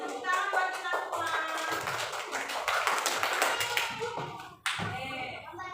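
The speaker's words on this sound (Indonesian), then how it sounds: "Jawabannya tepuk tangan buat kita semua" A classroom of students clapping their hands, a dense patter of claps running steadily for several seconds with faint voices underneath, then a brief sharper burst near the end.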